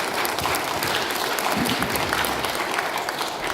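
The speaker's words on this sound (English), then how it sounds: "I'm going to hand all round of applause." Audience applause for a speaker at an event, loud and continuous clapping from a crowd with no voices over it.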